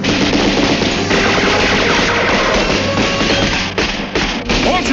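Rapid machine-gun fire and rifle shots crackle in dense, loud bursts in a World War II island battle scene, continuous and close with only brief dips.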